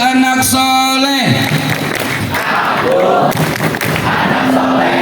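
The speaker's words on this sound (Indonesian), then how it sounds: "Ayo bareng-bareng tepuk anak soleh" Students at an Islamic school assembly marking Isra Mi'raj shout a chant together, with a rising loud crowd cry and rhythmic clapping and thuds beneath, close and energetic throughout.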